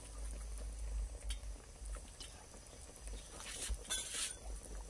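Pork bones simmer in a pot of Chinese herbal stew, a faint, continuous bubbling with a low rumble and occasional light clinks, heard without any voices.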